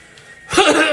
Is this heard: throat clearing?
yes